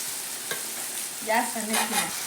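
Gobi stir-fries with tomato sauce in a pan, a constant close sizzle broken by a tap and a few scraping stirs of a spoon through the thick mixture.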